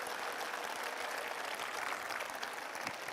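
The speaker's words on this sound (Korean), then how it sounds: "애들한테 여러분 박수 한번 다시 한번 보내주셔야 됩니다" An indoor audience at a talk concert claps steadily and fairly loudly for about three seconds, a dense, even wash of applause with no voices on top.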